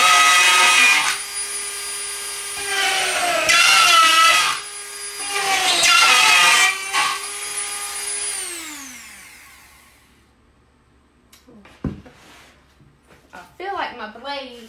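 A power tool with a cutting bit bores into half-inch birch wood with a loud, high whine in several bursts, then winds down, followed by a quiet stretch and a few small knocks.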